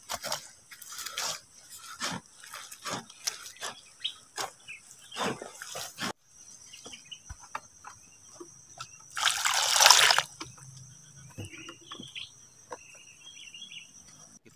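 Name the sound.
water poured into tomato seedling soil mix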